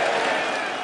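Cricket crowd applauding and cheering after England win the Ashes at a Test match against Pakistan, a dense, steady wash of clapping and roaring close and loud throughout the short burst.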